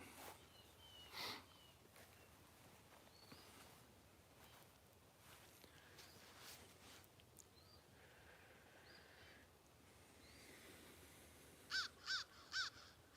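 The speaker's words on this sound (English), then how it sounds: "Got my crows around me." Crows caw in the distance on a homestead, one call early on and then a quick run of three caws near the end, over faint rustling and footsteps.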